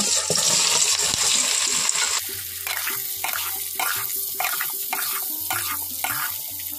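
Green jackfruit pieces hit hot oil in a wok with a loud sizzling hiss, followed by a steady frying crackle with a series of regular clinks and scrapes from stirring.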